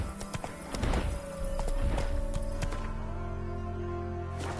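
Hooves of a horse in The Witcher 3 clop in a quick rhythmic gallop, close and clear, with a brief whinny among the rapid beats.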